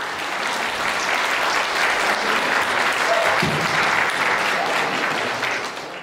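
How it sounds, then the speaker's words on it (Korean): A crowd of guests applauds as a wedding ceremony without an officiant begins at the Yeosu Hidden Bay Hotel. The clapping is dense and sustained for several seconds and fades slightly at the end. "뜨거운 박수 부탁드립니다"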